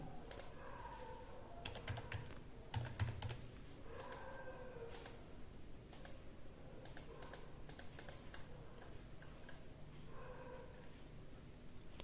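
Rapid clicking of computer keyboard keys while details are entered into an online exam registration form, with irregular bursts of keystrokes and short pauses, close and fairly quiet, with no voices.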